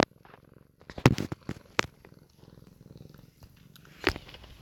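A cat purrs close to the microphone with a soft continuous rumble, broken by several loud bumps and taps.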